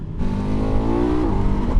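A KTM 1390 Super Adventure S Evo motorcycle engine pulls hard under acceleration, its loud, steady roar rising in pitch as it revs, close up with wind rush and no talking.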